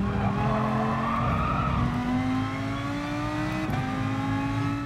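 Lamborghini Huracan engine howling in GT Sport, a steady rising drone as the car oversteers and slides, loud and continuous with no talking.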